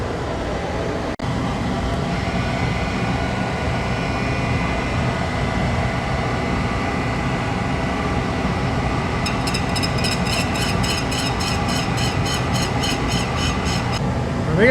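An aluminum oxide grinding wheel, clogged with aluminum, grinds aluminum in a loud, steady whirring drone, joined near the end by a rapid, rattling chatter.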